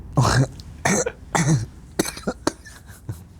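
A person coughs several times in quick, harsh bursts, close by, followed by a few softer throaty sounds.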